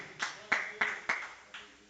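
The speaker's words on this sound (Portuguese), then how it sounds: "Aplauda o Senhor comigo" A run of five hand claps at a steady, even pace during an online spiritual-growth worship seminar, each a short bright smack, fairly faint and close.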